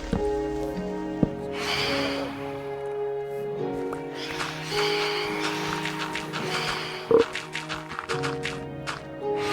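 A short snuffly sniff from a cat in a video game cuts through steady game music and soft dripping, close and brief, with a few quieter rustling breaths around it.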